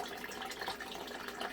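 Water gushes steadily from a sump pump discharge like an open faucet, a faint, continuous splashing hiss with no talk, from a Pro Series PS-C33 sump pump setup.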